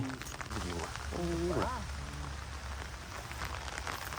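Daytime rain falls over a shrimp-trapping spot, a continuous soft patter heard nearby while someone speaks over it.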